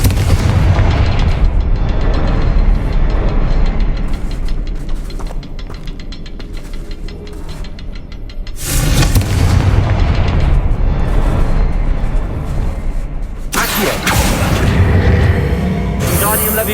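Confringo blasting spells exploding in Hogwarts Legacy, a run of loud booming blasts with rumbling low-end bursts, strongest in two heavy waves near the end, with game music and effects underneath.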